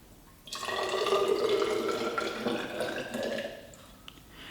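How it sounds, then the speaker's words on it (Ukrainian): Water poured into a glass measuring cylinder for a school lab experiment, a steady splashing gurgle lasting several seconds, close and fairly quiet, with no talk. "Наливаємо воду у мірний циліндр."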